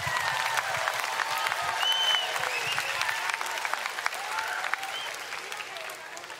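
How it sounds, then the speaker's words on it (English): Live audience clapping steadily for Jinx, the Fortnite winner, at the Summer Smash event at the Australian Open 2019, with a dense spread of claps that slowly fades and a few cheers mixed in. "Can we get a round of applause for Jinx?"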